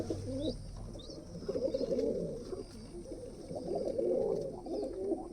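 Large pigeons, kept as a fancier's birds, coo in low repeated throaty phrases, close by and moderately loud, with a few faint higher chirps from other birds.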